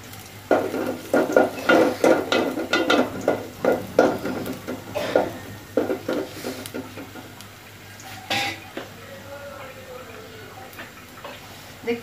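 Chopped onion and garlic frying in a pan, with soft sizzling beneath frequent close scrapes and clinks of a utensil stirring against the pan, busier at first and quieter later, with some talking nearby.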